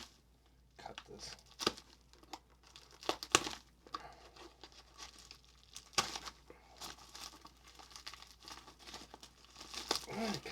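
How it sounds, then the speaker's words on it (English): A knife slits open a padded bubble mailer, giving scattered crinkling, tearing and crunching bursts of plastic and paper at close range, quiet overall with irregular pauses. "I don't know how well this knife's going to"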